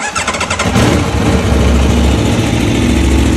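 A 2022 Aprilia Tuono V4 Factory 1100 with homologated exhaust fires up close by, a quick starter churn catching into a loud, steady, rumbling idle.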